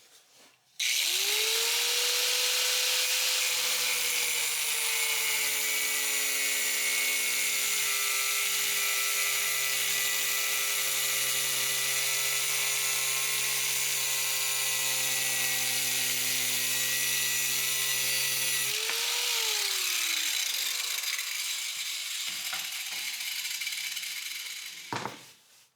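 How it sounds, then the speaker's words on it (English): Drill fitted with a new cutting blade working on a 1965 Mustang Fastback body, a loud sustained high-pitched whine with a steady tone that runs nearly uninterrupted, then winds down and stops near the end. "I put it in my drill."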